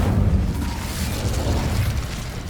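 The Incendio fire spell in Hogwarts Legacy, heard as a dense, roaring burst of flame with a deep rumble that holds steady for a couple of seconds.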